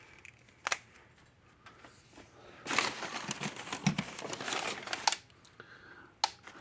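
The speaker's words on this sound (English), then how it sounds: "It's already clicked like half a dozen times" An old-style Gallagher M800 electric fence charger under repair, plugged into a ground-fault test outlet, gives a few sharp, isolated clicks several seconds apart, with a stretch of crinkly rustling noise between them and no talking.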